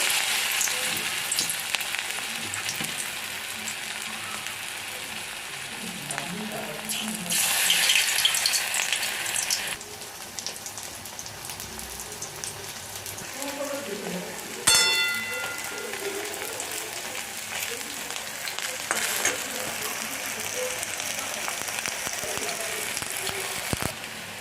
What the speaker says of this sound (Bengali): কড়াইয়ের তেল গরম হয়ে গেছে এবার আমি এক এক করে ভেজে নেবো